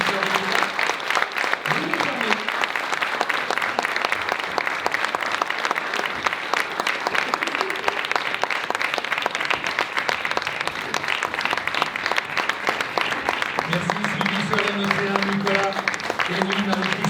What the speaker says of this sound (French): Je vous demande d'applaudir ces créations